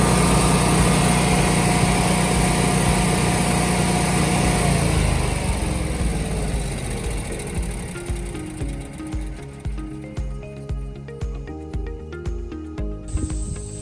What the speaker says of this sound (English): Assuming that it is running okay, I'm going to push the green button, put the generator in the auto position